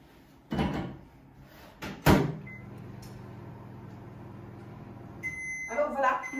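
Salmon with goat cheese heats in a microwave oven: a couple of clunks, a low steady hum for several seconds, then sharp electronic beeps, with a voice briefly near the end.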